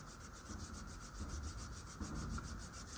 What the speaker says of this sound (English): I'm just going to go give it a little bit of a sand.